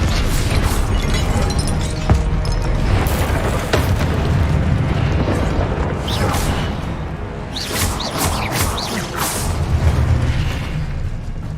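Hogwarts Legacy spell effects crackle and burst in quick succession: booming blasts, pops and whooshing swishes layered over a continuous rumble, while a voice calls out incantations.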